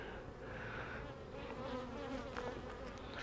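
Honey bees buzz in a steady, dense drone around a hive whose bees are mostly ageing, with no brood hatching except drones; close and continuous, with no speech.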